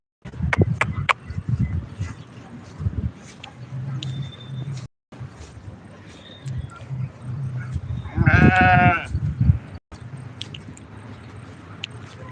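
A flock of sheep grazing outdoors, one loud drawn-out bleat standing out from a low rustle of hooves and movement, with faint scattered calls and distant vehicle noise.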